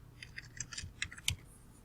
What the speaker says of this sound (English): I'm going to type the text that I want.